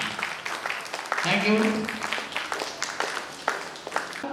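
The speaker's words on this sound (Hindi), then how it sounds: "इन सभी के लिए एक जबरदस्त ताली होता रहे।" An audience at a direct-selling training event claps in a scattered, moderately loud patter, while a speaker's voice carries over the top.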